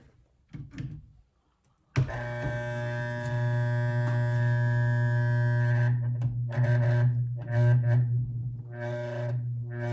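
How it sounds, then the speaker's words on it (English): After a brief clatter, a loud steady electrical buzz with a strong hum from a solenoid in a vintage pressure washer's controls starts and runs, briefly cutting in and out near the end. "The noise is coming from somewhere over in the controls. It's like a solenoid."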